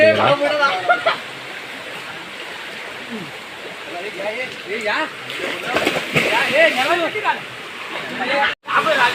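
People swim in a swollen forest stream during the rainy season, their splashing and sloshing water continuous and nearby, with chattering voices throughout.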